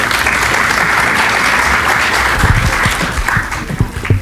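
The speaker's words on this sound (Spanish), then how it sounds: "Recibámosla con un aplauso." Loud, sustained conference-hall applause welcoming a hospital association director, a thick wash of many hands with a few heavier close claps near the end.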